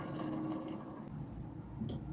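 Water running steadily into a soup pot, about two and a half to three litres, a continuous soft splashing stream that thins and quiets toward the end.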